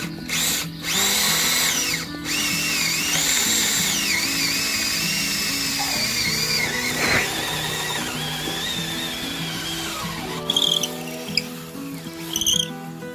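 A power drill bores a hole through wood for a bolt while a simple chicken tractor is being built, its loud, close motor whining steadily and changing pitch under load before winding down near the end.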